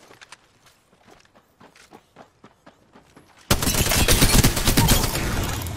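Gunfire in the battle royale shooter Apex Legends: a run of light, rapid shots and footstep-like clatter, then a sudden loud burst of sustained automatic fire that dominates the rest of the moment.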